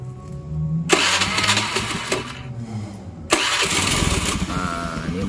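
A Honda Beat scooter-style motorcycle with a recently charged battery cranks and catches twice, each start bursting into a loud, close, steady engine run with brief quieter gaps between.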